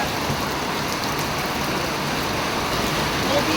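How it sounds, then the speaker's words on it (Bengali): Heavy rain pours down in a dense, steady hiss that stays loud and unbroken throughout, with no clear voices over it. "এত বৃষ্টি পড়ছে, কি অবস্থা, আমি তো যেতেও পারবো না।"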